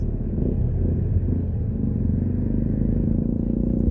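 Steady road traffic streams past the busy market gate in Falmouth, Jamaica, a continuous low engine rumble with passing cars and motorcycles, close and fairly loud, with no voices.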